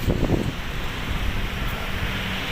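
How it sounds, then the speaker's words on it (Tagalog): Steady wind rushing across the microphone on the Manila Bay shoreline, a continuous broadband roar with low buffeting, no voices present. "yung hampas ng hangin sa katawan natin napakasarap"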